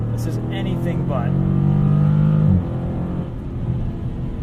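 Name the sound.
2019 widebody Dodge Challenger R/T Scat Pack accelerating, shifting gears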